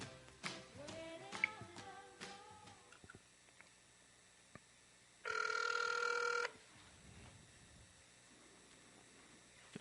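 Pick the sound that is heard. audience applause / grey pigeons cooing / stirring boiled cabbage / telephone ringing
telephone ringing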